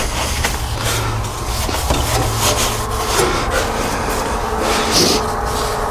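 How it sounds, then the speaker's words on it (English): A cloth with wax and grease remover wipes down the hood of an MG MGA before painting, making continuous close, hissy rubbing and swishing strokes that carry on without pause and with no talking. "We will wipe this down."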